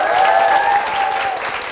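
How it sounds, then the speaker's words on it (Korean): Seminar audience gives a short burst of applause, a dense close wash of clapping from many people with a faint tonal hum running underneath. "박수로 테스트만 한번 할게요"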